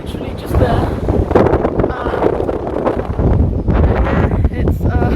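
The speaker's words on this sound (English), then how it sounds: "it's rather windy because the sea is literally just there" Strong sea wind at Barker's National Park in the Cayman Islands, buffeting the microphone with a constant low roar and gusty rumble, close and loud throughout.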